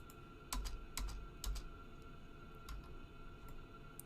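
Computer keyboard spacebar pressed a few times in irregular taps, quiet and close against faint room hum with no talk.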